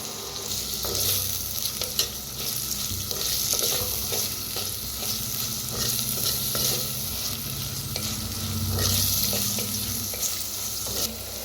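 Onion frying in a pan with a little salt for a country chicken curry: continuous loud sizzling with repeated stirring scrapes and taps, close and steady, with no voices.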